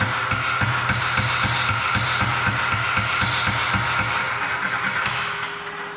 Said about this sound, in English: Don't be afraid to push with that chipping hammer.